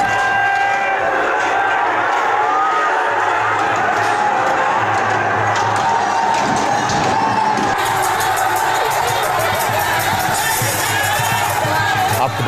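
A dense crowd celebrating Holi at the Takht Sachkhand Sri Hazur Sahib gurdwara in Nanded, with loud continuous cheering, shouting and whooping that fills the whole stretch, the roar swelling and thinning without a pause.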